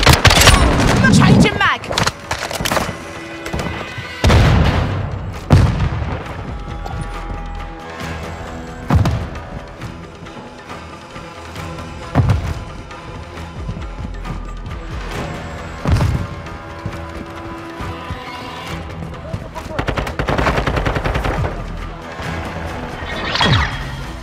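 Gunfire in the Call of Duty: Modern Warfare II video game during a fight at Al Barga Fortress, with loud close shots, bursts and heavy impacts recurring irregularly over a continuous mix of music and battle noise.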